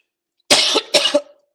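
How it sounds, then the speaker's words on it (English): A man gives two harsh coughs in quick succession, close and loud against silence, the second trailing off with a short throaty rasp. "Sorry for my cough."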